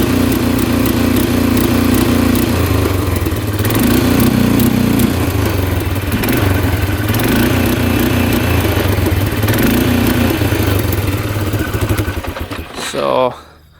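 An ATV engine stuck in limp mode runs loudly and close, a continuous throbbing mid-pitched drone with slight uneven surges in rhythm, then cuts out abruptly near the end.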